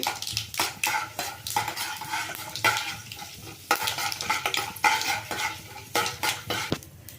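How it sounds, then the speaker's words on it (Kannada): Chana dal (split chickpeas) frying in oil for a brinjal palya, with brisk repeated stirring and metal scraping against the pan over a bright sizzle, loud and close, no talking. "ಸ್ವಲ್ಪ ಕಡಲೆಬೇಳೆ ಕಡಲೆಬೇಳೆ ಫ್ರೈ ಆಗಲಿ"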